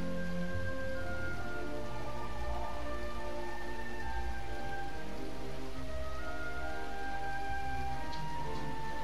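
Rain falling in Dragon Quest VIII, a steady soft hiss of rainfall under a low droning musical backdrop, continuous and moderate with no talk.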